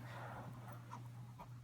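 A dog pants rapidly and steadily at close range while biting, the quick breaths repeating throughout over a low steady hum, with a faint whimpering quality.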